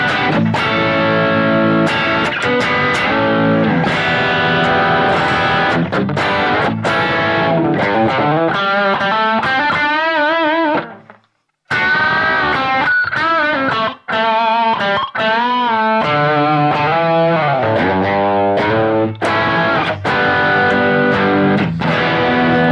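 High-gain distorted electric guitar played through a BOSS GT1000 and Line6 HX, with dense chugging riffs and sustained crunchy chords, loud and upfront, briefly stopping midway before resuming.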